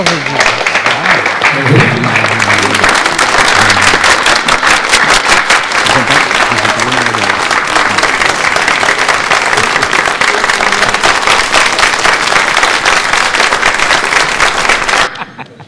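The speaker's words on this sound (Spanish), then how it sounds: "Aplausos." Long, loud applause from a pageant crowd as department contestants are presented, dense and sustained, with a voice and a hint of music early on before the clapping cuts off at the end.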